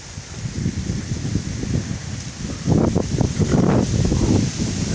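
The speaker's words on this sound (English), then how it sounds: "Definitely a little windy outside." Wind gusts buffet a microphone outdoors on a residential street, low rumbling bursts that swell louder in the second half, with a faint leafy rustle and no talk.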